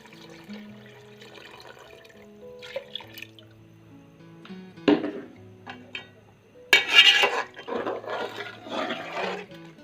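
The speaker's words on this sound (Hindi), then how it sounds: "भूनने के बाद इसमें पानी में ऐड कर दूंगी।" Water poured into a pot of frying biryani masala, starting with faint dripping and clinks, then a loud rushing splash and gurgle that sizzles and churns close by for several seconds.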